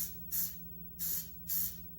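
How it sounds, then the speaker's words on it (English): Three short hissing bursts of a coconut oil cooking spray can, evenly spaced about a half second apart, close by and fairly quiet, spraying inside a ramekin. "take some coconut oil and spray the inside of my ramekin"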